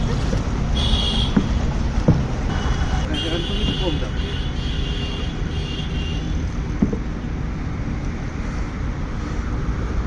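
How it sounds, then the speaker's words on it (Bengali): A small boat moves over water with occasional wooden oar knocks and wind rumble while people talk over it. "ভাই বোন একদিন নৌকা চালাচ্ছে"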